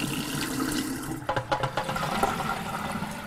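Water pouring out of a film developing tank, a sloshing, gurgling rush with a few uneven glugs in the middle, heard close and alone.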